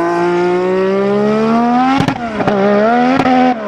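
A turbo-hybrid V6 Formula 1 car screams loud and close, its engine note climbing steadily, then cracking through three quick upshifts near the end, each a sharp break before the revs rise again.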